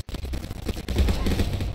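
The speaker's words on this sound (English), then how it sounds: "Where's all the gunfire coming from?" Quick crackling automatic gunfire in the online shooter game Venge.io, a loud continuous rattle of shots following a brief gap at the start.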